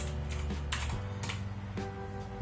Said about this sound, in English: So you have to open the command prompt and type ipconfig